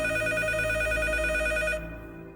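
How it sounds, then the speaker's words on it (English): A telephone rings with a steady electronic tone that sounds continuously and loudly, then cuts off near the end, leaving a fading tail. No one speaks. "And then the phone rang."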